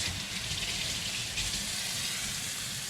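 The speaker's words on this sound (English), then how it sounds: "And my favorite thing, washing my hands." Running tap water pours steadily into a sink while hands are washed, a continuous close rushing splash with no breaks and no talking.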